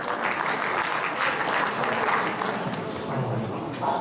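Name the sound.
audience applause welcoming a lecturer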